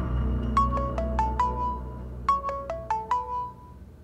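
A phone ringtone for an incoming call plays two identical bursts of bright descending melodic tones, clear and close over a faint low background, with no speech.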